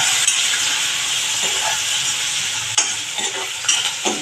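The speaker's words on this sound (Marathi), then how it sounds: "तर आपण ही डाळ चांगली परतून घेऊया" Soaked chana dal, seasoned with turmeric and asafoetida, is stir-fried in hot oil for a radish curry; there is a constant loud sizzle with occasional spatula scrapes and taps against the pan.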